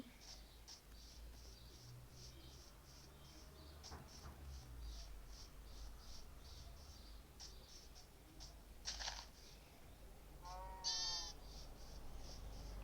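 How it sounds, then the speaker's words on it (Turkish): A single short sheep bleat in a video game rises over a steady hum and faint repeating ticks, with a brief rustle just before it. "Koyun, küçük koyunlar var burada."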